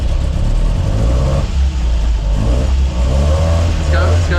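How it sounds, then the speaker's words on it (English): Land Rover engine revving hard while driving off-road, loud and continuous with a deep rumbling drone throughout, and voices calling out over it. "More gas, more gas."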